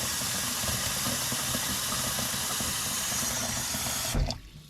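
Steady rushing of water pouring from a tap into a pot, continuous and fairly loud, cutting off abruptly near the end.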